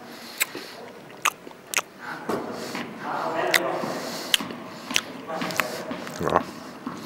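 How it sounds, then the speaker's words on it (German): Loud, deliberate chewing and smacking on a muesli bar, with crunchy bites and wet mouth sounds spread through the clip and sharp clicks at intervals, close to the mic, with no talk. "Absichtlich laut schmatzen."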